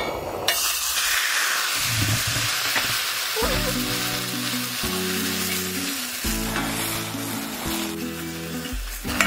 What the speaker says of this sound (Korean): 냄비에 들기름을 두른 뒤 김치를 볶아주세요.